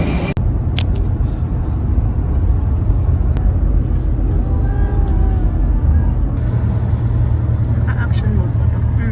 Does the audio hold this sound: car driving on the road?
yes